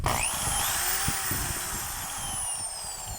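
A power drill with a freshly replaced 3/8-1/2 chuck runs steadily close by, a whining motor with rising and falling pitch and a faint ticking rattle, with no talking.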